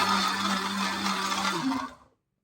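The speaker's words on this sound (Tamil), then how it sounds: "வெங்காயம் தக்காளி எல்லாம் போட்டு அரைச்சி அதுதான் மசாலா எடுக்கணும்" A mixer grinder whirs steadily as it purees raw onion and tomato into a masala paste for soya biryani, a loud continuous motor whine that winds down and cuts to silence.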